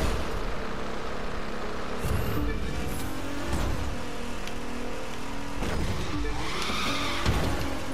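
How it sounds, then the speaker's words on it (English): A car in The Crew 2 racing game roars along with tires skidding and squealing through several hard slides, loud and continuous throughout. "Apa kuat nih engine kereta ini."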